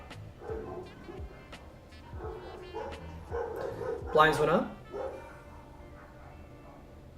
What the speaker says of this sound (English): That is some loud barking outside.